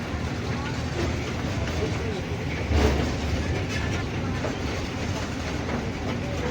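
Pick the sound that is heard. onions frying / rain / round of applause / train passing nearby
train passing nearby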